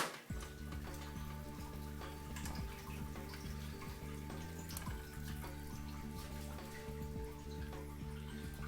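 Corn going into a simmering pot of Filipino bulalo beef soup with meat, onions and bone, a steady watery bubbling and sloshing that runs continuously and fairly close throughout.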